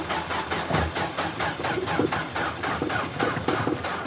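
Small 660cc Subaru kei car engine with over 300,000 km on it, idling with an even, rapid ticking pulse, close up and moderately quiet, with no voices over it.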